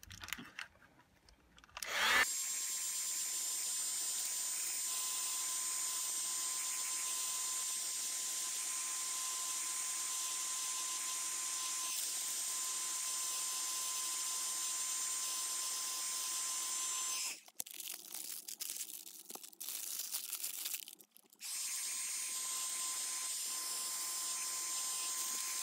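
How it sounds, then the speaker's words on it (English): A heat gun heats a napkin-wrapped candle, giving a steady blowing hiss with a constant whine that runs unbroken for about fifteen seconds, stops briefly, then resumes; quiet room otherwise with no talk. "I'm going to bring in my heat gun. And we're just going to start heating the candle."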